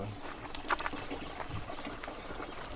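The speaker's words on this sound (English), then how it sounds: "We'll go to the fountain." Water trickles and splashes from a village fountain in rural Turkey in a quiet setting, with soft, continuous dribbling and a few brighter splashes close by.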